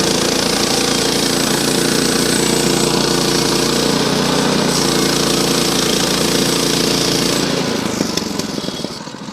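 Seven-horsepower engine on a Frontier OS18 sawmill running at a loud, steady drone close by, easing slightly near the end.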